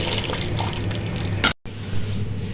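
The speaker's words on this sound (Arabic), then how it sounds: "بنكت المي السخنة، طبعا المي لازم تكون مغلية نار" Boiling water is poured over rice in a pot, a steady close splashing pour that cuts off abruptly, then resumes more softly.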